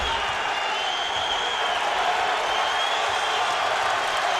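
A basketball crowd at a Providence home game against Marquette roars and cheers after a Providence three-pointer, a dense, loud, sustained wash of noise filling the whole stretch with no break.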